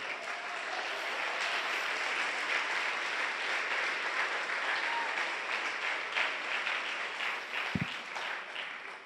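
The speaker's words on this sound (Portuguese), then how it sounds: "Pode aplaudir o Senhor Jesus," Sustained applause from a church congregation fills the room at steady strength for the whole stretch, a dense wash of many hands with a brief sharper knock near the end and no clear speech.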